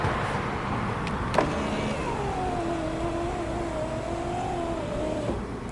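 A slow power window motor on a 1987 Subaru GL-10 Turbo sedan whines steadily for several seconds, its pitch sagging slightly as the glass travels, ending with a small clunk, all set against constant low background rumble.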